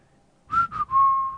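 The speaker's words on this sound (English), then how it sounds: "The prince whistled softly." A person whistles softly: two short rising notes followed by a longer held tone, close and clear in an otherwise quiet space.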